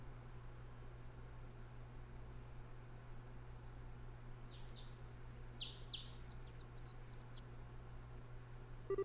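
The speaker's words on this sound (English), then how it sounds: "Birds." A short burst of faint, high bird chirps twitters in a bright, green outdoor scene of the game Trails the 3rd, set over a steady low hum and quiet background hiss.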